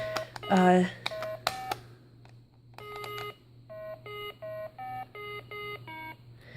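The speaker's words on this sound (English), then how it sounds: "it just plays like any other Simon game" A Simon Micro Series electronic memory game beeps in a rapid sequence of short, bright notes, then settles into a steady rhythm of evenly spaced tones.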